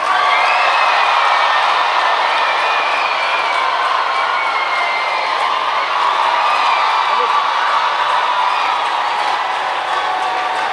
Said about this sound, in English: Can we put our hands together, church, as we receive Frank Edwards?